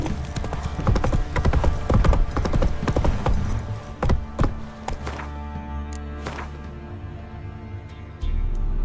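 Roach, the horse in The Witcher 3, gallops with rapid, loud clip-clop hoofbeats that thin out and slow toward the end, over a low rumbling game ambience.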